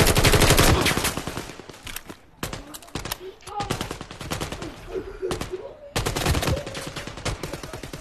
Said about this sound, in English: He's flying through the air shooting people.